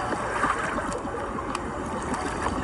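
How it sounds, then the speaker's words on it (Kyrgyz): A boat on the water near the Mexico border crossing, with a continuous washing, gurgling rumble of water against the hull and faint wind, steady and close throughout. "Кайыкта жатабыз."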